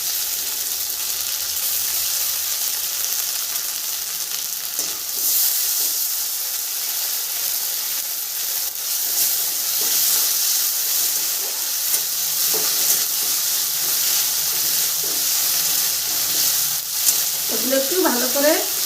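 Tomato, cumin paste, ginger paste and green chili paste frying in oil for a fish curry make a loud, steady, hissing sizzle with occasional stirring scrapes, and a voice briefly cuts in near the end.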